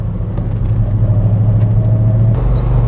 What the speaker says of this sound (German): Die Maschine hört sich kerngesund an